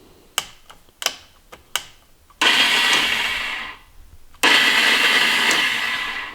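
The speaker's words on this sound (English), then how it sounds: "The starter rolls over, but it's like the starter isn't engaging." A Polaris Trail Boss ATV starter spins without engaging, heard as a few sharp clicks followed by two loud whirring runs that stop without the engine catching.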